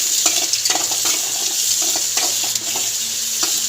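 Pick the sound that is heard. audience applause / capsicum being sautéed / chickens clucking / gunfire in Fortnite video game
capsicum being sautéed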